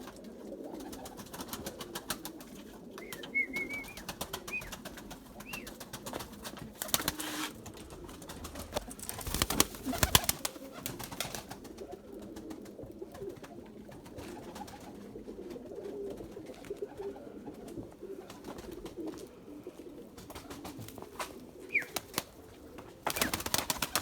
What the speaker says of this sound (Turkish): Arkadaşlar maşallah kuşlarım